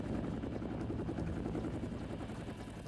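A steady, fairly quiet helicopter drone with a continuous rotor flutter, unchanging throughout and no voices.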